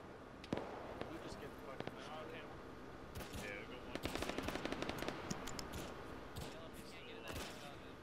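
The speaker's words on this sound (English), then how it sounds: "Did that feel like an autocannon to you, or was that a Zeus?" Rapid autocannon bursts ring out in an Arma military game session with ShackTac players, sharp repeated cracks in quick strings amid ongoing distant gunfire, fairly loud and mixed with background battle noise.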